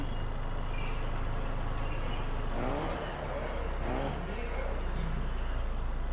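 A car drives in Fortnite, its engine rumbling steadily throughout with a brief dip midway, heard under game ambience.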